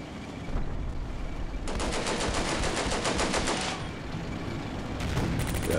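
Heavy battle gunfire in the Combat Mission video game: a dense, loud wall of rapid machine-gun bursts and shots, with sustained rattling volleys layered over a constant low rumble.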